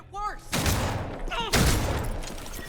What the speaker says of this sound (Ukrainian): Нічого собі, дробовичок такий дуже потужний.